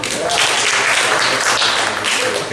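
A short, loud burst of dense audience applause at a live comedy impersonation show, steady clapping filling the whole moment.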